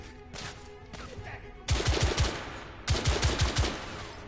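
Bursts of automatic gunfire in the Victorian-era shooter The Order: 1886, two loud rapid volleys of close shots, each a quick run of about four or five cracks, with quieter battle noise before them and no talk.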